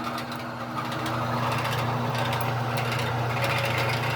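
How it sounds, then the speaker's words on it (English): A motor-driven saw cuts through metal while its loose motor guard rattles, making a steady droning hum with a continuous buzzing rattle running close and loud throughout. "The rattle noise is the guard for the motor,"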